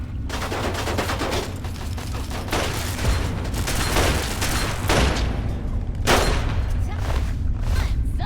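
Automated turrets open fire on raiders in Fallout 3, a continuous rattle of shots layered over a loud, steady rumble, with a voice speaking over the fighting.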